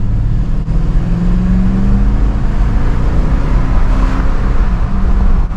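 A 2012 pickup truck drives and accelerates, its engine a loud, steady, close drone with a slowly climbing tone and road rumble underneath.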